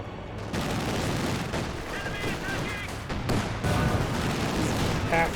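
A volley of small-arms fire among infantry squads in Company of Heroes 2, a dense, continuous rattle of shots and blasts lasting several seconds, with faint voices underneath.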